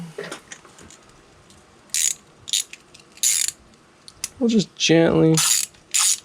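A hand ratchet drives a valve cover bolt into an MK4 GTI engine in quick bursts of sharp clicking, close up and separated by short gaps.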